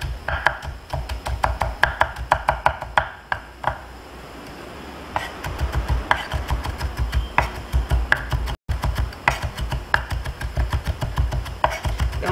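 Knife finely mincing green bell pepper on a cutting board, a fast steady run of crisp chops close by with a brief pause partway through, no talking.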